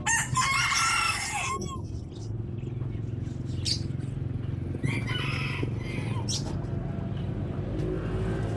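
Chickens and roosters in a Texas yard crow and cluck steadily, with repeated loud crows over a constant background rumble that resembles passing traffic.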